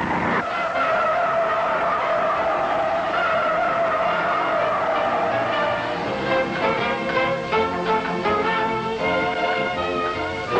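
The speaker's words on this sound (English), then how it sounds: "But when you push it through, hard understeer sets in, and the front end washes out." A 1969 Chevrolet Impala corners hard, its tires squealing in a loud, sustained shriek over the engine. The squeal runs steadily for several seconds, then breaks into rougher, choppier squeals as the car works through the turn.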